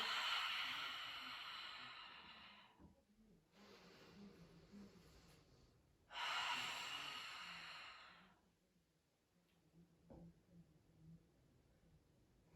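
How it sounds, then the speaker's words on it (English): Slow, deep breathing during a beginner-intermediate morning yoga flow: several long, soft airy breaths, each inhale or exhale lasting a few seconds with quiet pauses between, close and gentle. "Again, deep breathing."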